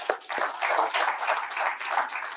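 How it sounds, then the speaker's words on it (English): An audience claps hands at a talk show honoring a former South African ambassador to the United States, a steady close patter of many hands with no voices over it. "Man, you got to clap hands for that."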